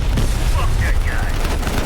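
Gunfire from the Call of Duty Black Ops Cold War campaign, heard as a dense, continuous barrage of shots and booms mixed with game sound, close and loud throughout.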